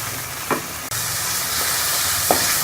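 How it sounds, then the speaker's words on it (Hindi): Masala sizzles and fries steadily in ghee in a pan for a dhaba-style egg curry, with a constant hiss and a few soft stirring scrapes. "मैं इसको घी ऊपर आने तक अच्छी तरह से मसाले को भून लूँगी।"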